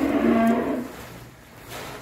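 A bull calf at a cattle farm in Vinh Long lets out a single loud moo at the start, then fades into quiet farm background.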